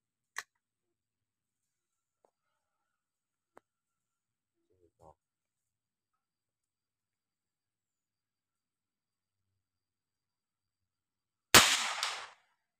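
An AFC Bledos air rifle fires at a target 80 m away. Faint isolated clicks and ticks sit in near silence, then a single sharp, loud shot snaps near the end.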